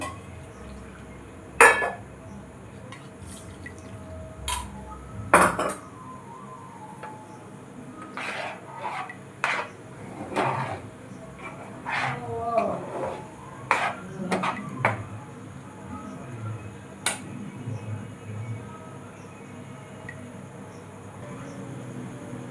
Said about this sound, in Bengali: আমি এটাকে ভালো করে নাড়তে থাকবো না তো দলা পাকিয়ে যাবে